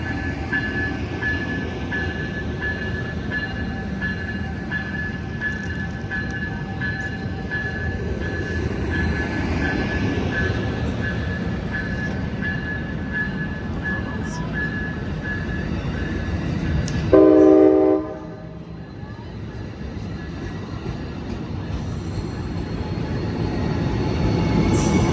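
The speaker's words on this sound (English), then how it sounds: "there go that train, ladies and gentlemen. He is going to Bakersfield" An Amtrak San Joaquin passenger train pulls out of Emeryville station with a continuous rolling rumble. It sounds one loud horn blast partway through, then the noise drops off briefly before the rolling sound builds again.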